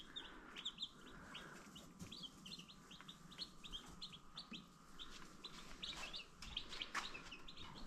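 Newly hatched chicks peep in rapid, repeated high chirps, a busy chorus of small calls running steadily over a low background rumble.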